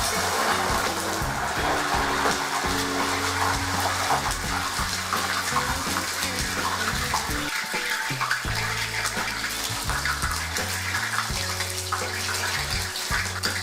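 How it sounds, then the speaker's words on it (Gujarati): Loud, continuous crackling sizzle as water is sprinkled into hot oil while frying gathiya, a dense rushing hiss that barely changes throughout. "હવે તેમાં થોડું પાણી છટકો"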